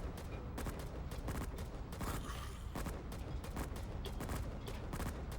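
Towers firing on enemies in the tower defense game TDX, a dense, continuous barrage of rapid gunfire bursts and blasts, steady and loud throughout with no pauses.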